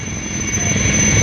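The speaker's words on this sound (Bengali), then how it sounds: "আর ওখানে কিন্তু অলরেডি একটা হেলিকপ্টার এই মুহূর্তে ল্যান্ড করছে দেখো।" Military helicopter flying during a war drill in India, a steady, dense rotor and engine roar at moderate distance with a thin high whine on top.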